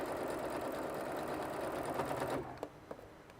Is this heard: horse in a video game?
no